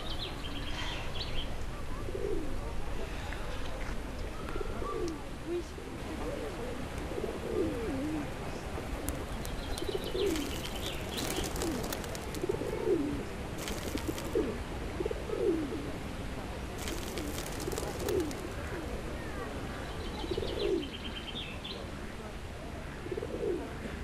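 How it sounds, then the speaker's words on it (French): Pigeons coo repeatedly at a steady, rhythmic pace while being fed outdoors, soft throaty calls close by with scattered chirps and a busy background hum. "Mais je dois nourrir les pigeons."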